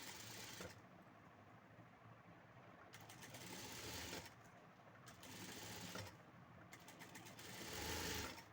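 A sewing machine stitches the lining of a blouse in a steady, quiet whir, running in several bursts with short pauses between them, alone with no talking.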